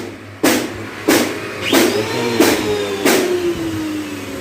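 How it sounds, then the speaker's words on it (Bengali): A homemade wooden cutting machine runs with a steady mechanical drone, broken by five sharp, loud bursts at regular intervals of about half a second or more, each like a cut or strike, with a rising whine in between. "আমি একটা নতুন কাটিং মেশিন তৈরি করছি, যা আমার নিজের মেধা দিয়ে আমি এটা তৈরি করছি"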